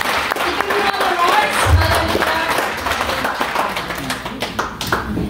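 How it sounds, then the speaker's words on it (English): A church congregation at a joint worship and healing service claps in praise, a loud rush of many hands with scattered sharper claps and thumps, voices and cheering mixed in. "can we give our God the best clap of praise?"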